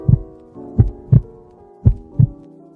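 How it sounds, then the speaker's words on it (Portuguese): Heartbeat thumps, five low, deep pulses in an uneven rhythm, close and prominent over a faint hum. "posso ouvir o som do seu batimento cardíaco"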